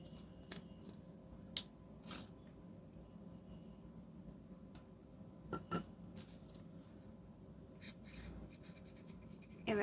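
The nib of an Oliver Karma ebonite fountain pen writes on paper in green ink, making faint, quiet scratching strokes in short bursts against a soft background hiss.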